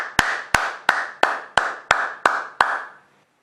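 A church congregation claps in unison during a prayer service, eight sharp, evenly spaced handclaps about a third of a second apart, loud and close, ending in silence.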